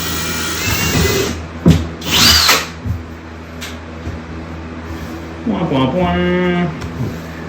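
A power drill drives screws into the lip of a bathtub/shower unit being installed in a mobile home, with short whirring bursts close by, one at the start and a longer one near the end, between pauses.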